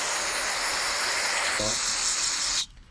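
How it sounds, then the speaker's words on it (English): A steady, hissing spray of cleaner onto lawn mower carburetor parts runs continuously under a faint tapping, then cuts off abruptly near the end. "Then I'm just gonna spray this off."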